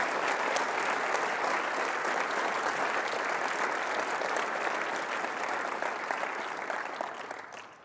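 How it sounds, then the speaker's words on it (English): A conference keynote audience claps loudly and steadily for several seconds, a dense even applause that fades out toward the end. "So if everyone can give them a round of applause."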